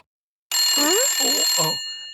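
A telephone rings in a family home, a bright, sustained electronic ring starting abruptly, with brief vocal sounds mixed in, then continuing on its own.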